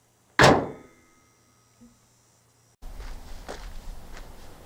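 A single heavy metallic slam of a 2012 Toyota RAV4 hood shutting rings out and decays, followed by a brief quiet and then a wider outdoor ambience.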